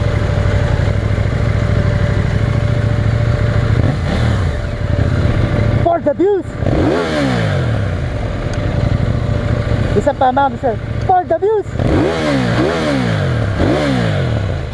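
A KTM 790 Duke parallel-twin motorcycle revs loudly in heavy traffic, with sharp rising and falling engine sweeps in several bursts over a steady idle drone, while someone talks between them.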